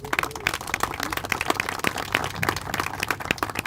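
A crowd applauds at a groundbreaking ceremony for a departing leader named Les: dense, steady clapping from many hands, moderately loud throughout, with no talking over it.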